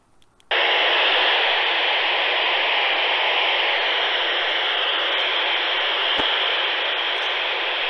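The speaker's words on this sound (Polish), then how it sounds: "Szum, szum i Marcin." Steady static hiss from a handheld radio receiver, a Quansheng UV-K5 or Yaesu FT-4X, switches on abruptly and holds loud and unbroken for over seven seconds, with a single faint click midway.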